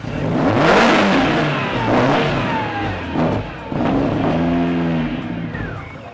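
A Renault Clio 172 race car engine, nearly out of fuel, cranks and catches before revving in loud, close surges that rise and fall, with a rough idle between bursts and no talking.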